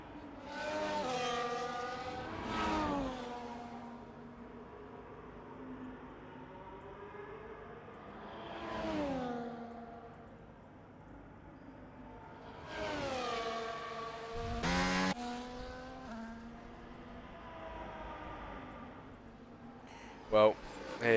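Race cars in a realistic racing video game at a China round sweep past one after another, engines rising and falling in repeated whining passes with gear-shift pitch drops and quieter gaps between them.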